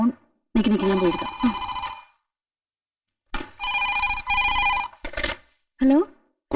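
A telephone rings in repeated bursts, with bright electronic trills separated by short pauses, while voices speak between and over the rings.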